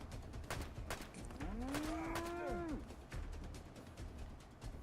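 A single drawn-out cow moo in the video game Fallout: London rises and falls over about a second, set against scattered sharp cracks of gunfire.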